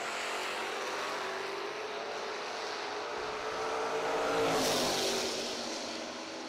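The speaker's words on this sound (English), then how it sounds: "Taillights on the Nova doing a little dance all the way down the racetrack, and that's going to be a winner" A Chevy Nova drag racing down the strip at a summer drag event, its engine roaring steadily at a distance and swelling briefly as it passes before fading slightly.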